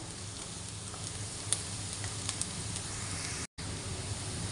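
Onion and garlic sizzling in a pan, a steady close hissing fry with a few light clicks of stirring, briefly cutting out once near the end before resuming.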